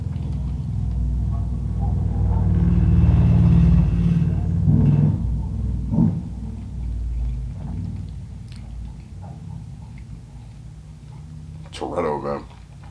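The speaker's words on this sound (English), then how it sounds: "That was like 3 cars. I don't know if y'all can tell. That was a super loud one." Loud cars accelerating past outdoors, a heavy low engine rumble swelling and fading over several seconds, close and powerful, with people talking over it.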